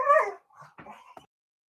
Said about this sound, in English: Don't mind the dogs in the background. They're crazy dogs.